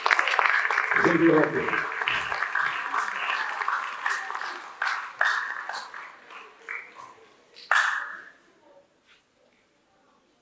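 An audience at a French-language finale event applauds for several seconds, the clapping thinning into scattered claps before fading out, while a voice speaks over it.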